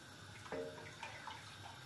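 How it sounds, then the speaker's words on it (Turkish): Water runs from a kitchen tap into a sink, a faint steady splashing trickle with a brief gurgle, heard alone in a quiet room. "Çeşmeden su geliyor."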